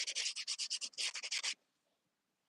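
A ceramic pot is sanded by hand in about a dozen quick, even strokes that rasp close and crisp. A short silence follows, then another stroke starts.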